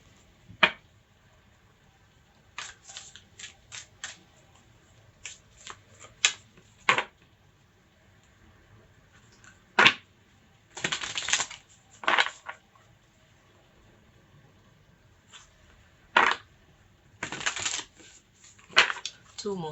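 A deck of playing cards is shuffled in short bursts: quick riffling rattles and sharp card snaps scattered between quiet gaps, close and fairly soft.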